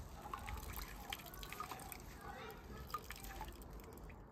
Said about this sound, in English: I made a sponge wet and I quickly wipe it off to show you.